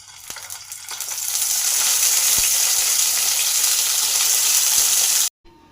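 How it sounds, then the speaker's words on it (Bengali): Eggplant pieces fry in hot oil with a loud, steady, close sizzle that builds over the first second or two, holds evenly, then cuts off abruptly near the end. "এবার তেল গরম হলে বেগুনগুলোকে এক এক করে ভেজে নেব।"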